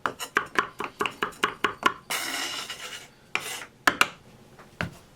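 Knife cutting the stems and seeds out of a fresh jalapeno on a board, a quick run of about a dozen sharp rhythmic chops, then rasping scrapes, a couple more chops and a final tap, close and alone.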